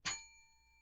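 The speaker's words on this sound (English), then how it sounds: "I will employ what I have called the inappropriate bell." A single bright bell ding, rung as a game-show signal on a comedy panel program, striking once and then ringing out in a clear, fading tone with no talk.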